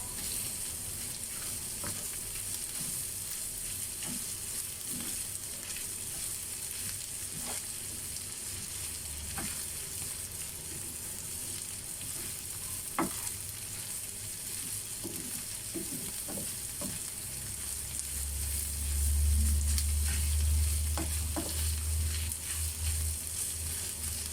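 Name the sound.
sautéing tomato paste in a pan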